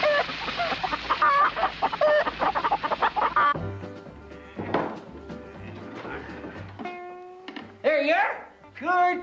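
Hens clucking and squawking in busy bursts in a comedy sketch, then music with voices over it and a rooster-like cry near the end.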